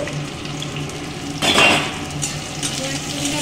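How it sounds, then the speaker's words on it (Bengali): Chopped onions fry in a pan with a steady low sizzle, and one louder burst of stirring and clattering in the middle, with no talking. "পেঁয়াজ কুচিটা লাল লাল করে ভেজে নেবো"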